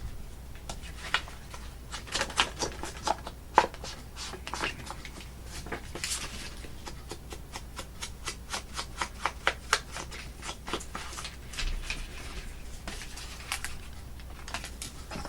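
Paper is trimmed at an angle for a steampunk folio, with repeated crisp snipping and cutting strokes, some in quick clustered runs and others spaced out, along with soft paper handling close by.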